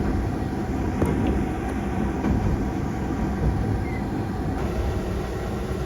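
Manyosen tram running on its line near water in Takaoka, a steady rumbling rail drone with faint clicks, heard close and continuous without speech.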